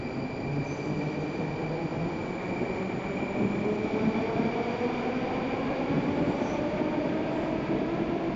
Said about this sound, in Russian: Пусть уже поезд едет.